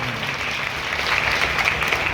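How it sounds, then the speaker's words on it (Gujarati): A crowd applauds at a Gujarati Ahir community honour ceremony, a sustained wash of many hands clapping together, fairly loud and steady, swelling slightly toward the end. "એકવાર જોરદાર તાળીઓથી વધાવો ભાઈ"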